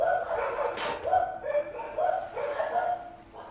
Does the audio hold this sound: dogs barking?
yes